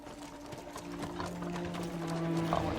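In a video game, a horse's hooves clip-clop in a steady rhythm beside a carriage, with faint mechanical rattling and a low tonal hum behind, and no talk.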